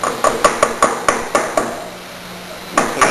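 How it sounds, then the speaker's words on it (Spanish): Light hammer taps seating a reverse osmosis membrane into its housing tube: about nine sharp, close knocks in an uneven rhythm, a pause, then two more, each with a brief metallic ring. "Se ajusta con unos golpecillos del martillo"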